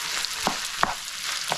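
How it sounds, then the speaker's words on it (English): Crushed chili being stirred and fried in a pot, with a steady close sizzle and three or four distinct scraping stirs of the spoon across the pot. "So now we stir this for a while and just let this all incorporate."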